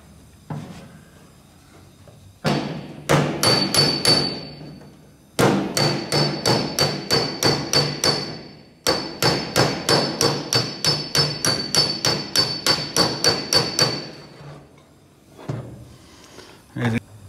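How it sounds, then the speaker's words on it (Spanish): Rapid, steady hammer blows planishing a welded patch panel on a car body, long runs of ringing metallic strikes with brief pauses between bursts, close and loud, with no talking. "Ahora voy a planchar lo que voy soldando."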